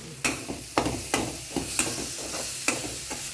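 Masala is stirred in a frying pan over a soft sizzle, a spoon scraping and knocking against the pan in a fairly regular rhythm of about half a dozen strokes.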